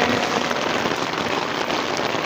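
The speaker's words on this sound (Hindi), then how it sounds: "बारिश लत्थी दी है" Steady heavy rain pours down outdoors at night, a dense continuous hiss of drops on surfaces and standing water, loud and close with no voices or pauses.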